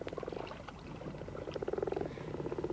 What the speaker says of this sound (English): they were greeted by a chorus of croaks. The frogs had returned to breed.